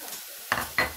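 Chopped onion and sweet pepper frying in oil in a pan, stirred twice: two sharp bursts of sizzling and scraping, half a second apart, over a faint background hiss.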